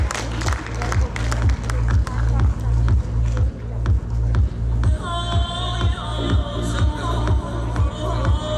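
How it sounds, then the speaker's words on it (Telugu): An audience at a film promotion event in Vijayawada claps for a producer, continuous crowd applause over a loud pulsing bass beat, with bright music entering partway. "ఒకసారి ఆయన కోసం గట్టిగా చప్పట్లు కొట్టాల్సిందిగా కోరుకుంటున్నాం."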